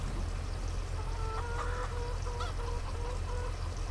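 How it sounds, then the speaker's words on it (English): Chickens cluck in a farming video game, a few short clucks standing out over a steady low ambient hum, no talk. "I hear the chickens over there."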